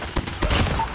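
Rapid gunfire from a first-person shooter match in Call of Duty Mobile, AS Val rifle in the loadout, with a dense burst of shots crackling through the whole second over busy game noise.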